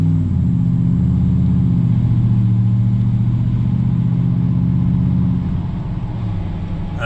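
A car cruises with its window rolled up, a steady low engine drone and road rumble filling the cabin, loud and even throughout with no talking.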